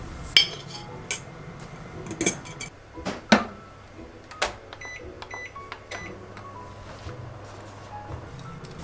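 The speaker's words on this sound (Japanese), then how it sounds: "電子レンジで1分加熱します。" A microwave oven heats a container of vinegar, water and sugar pickling liquid, with clinks and clatters of a container being handled, then beeps and a low steady hum as it runs.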